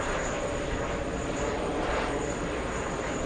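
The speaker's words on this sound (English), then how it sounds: "It's going to be racing down the runway." An Airbus A340 at JFK roars down the runway on its takeoff run, a loud, steady, dense engine rumble heard from nearby without any talking.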